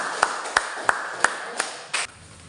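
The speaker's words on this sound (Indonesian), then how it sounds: "Tepuk tangan dulu." A few separate hand claps ring out sharply in a classroom, spaced roughly every third of a second and then ending with one softer, broader clap.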